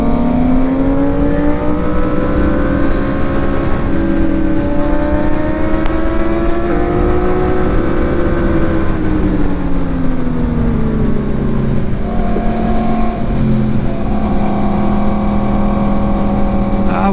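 A Yamaha MT-10 motorcycle ridden on a race track at a track day, its engine loud and close, pitch rising through the gears, falling while slowing into a corner, then climbing again.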